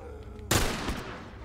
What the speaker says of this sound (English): Oh God, that was a waste of a shot.